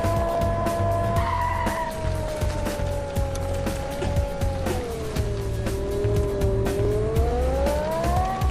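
A Ferrari racing in the video game Indian Theft Auto, its engine wailing continuously and rising and falling in pitch as the tires squeal and skid loudly throughout, with no voices.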